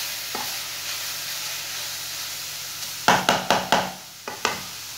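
Grated carrots for gajrela roast in a pan with a low steady sizzle, then a run of five or six sharp spoon knocks against the pan as they are stirred, close and clear, with no talking.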